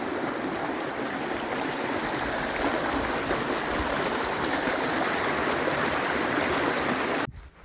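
A rushing stream at a water stop along a New Zealand hiking trail, a steady, loud, broad wash of flowing water heard close up and alone, cutting off abruptly near the end.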